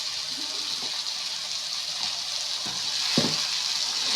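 Cauliflower egg poriyal stirred as it fries in a pan, a continuous close sizzle broken by a few soft scraping strokes of the spoon.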